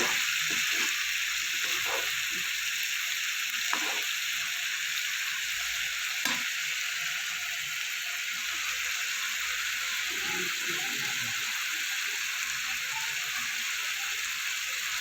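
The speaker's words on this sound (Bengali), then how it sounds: "এবার এটা কিছুক্ষণ ভাজা ভাজা করব, তেলটা ছাড়বে।" A spice paste for Bengali amudi fish curry fries in oil with a steady, even sizzling hiss, and a few soft stirring taps come through over about fifteen seconds.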